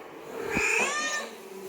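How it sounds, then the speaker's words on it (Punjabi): A cat in a home kitchen gives one clear, rising-then-falling meow, close and fairly loud against quiet room tone. "ਬਿੱਲੀ ਆ ਗਈ ਓਏ"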